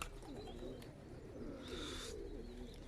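Pigeons cooing in a loft yard, low throaty coos repeating softly through the clip over a steady background hiss, with a brief brighter chirp-like burst midway; no one speaks.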